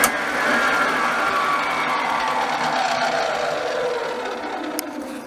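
A Paillard Bolex S221 16mm film projector runs after starting up, giving a steady motor whir with a faint falling tone that continues evenly throughout, with no talking.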